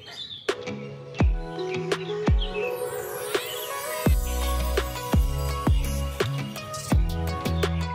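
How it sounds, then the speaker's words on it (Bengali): Birds chirp and tweet in an outdoor park, bright scattered calls repeating over a quiet background alongside several sharp knocking sounds, with no talking. "এত সুন্দর পাখির কিচিরমিচির আওয়াজ"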